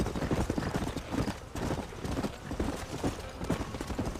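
A horse gallops in the Red Dead Redemption video game, with quick, rhythmic hoofbeats drumming steadily throughout and a brief whinny among them.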